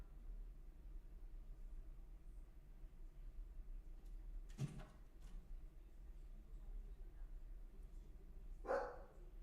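A dog gives two short, faint barks a few seconds apart, heard at a distance over a steady low hum indoors.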